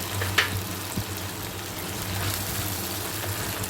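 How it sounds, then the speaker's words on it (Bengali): Masala mixed with cashew paste frying and being stirred in a pan, a soft steady sizzle with a faint scrape or clink near the start, close and fairly quiet with no talking. "দিয়ে মশলাটা মিশিয়ে নিচ্ছি।"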